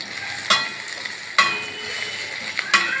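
Onion fries in oil in a home kitchen pan, a steady close sizzle broken by three sharp scraping stirs of the spatula at uneven intervals, with no talk.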